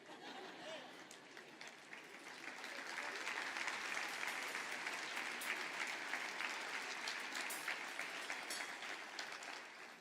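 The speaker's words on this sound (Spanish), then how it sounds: "Y usted aplaudió." A church congregation applauds during a sermon, with a loud, sustained burst of clapping that swells after a couple of seconds and holds steady, with voices mixed underneath.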